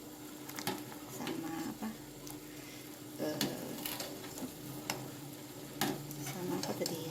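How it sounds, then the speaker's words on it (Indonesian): Tamarind water with a little salt is stirred in a cooking pot for pempek vinegar sauce, producing soft scraping and clinking strokes at irregular intervals over a low simmering hiss, with brief speech. "Air asam jawanya kita masukin teman-teman. Tuh. Kita aduk-aduk."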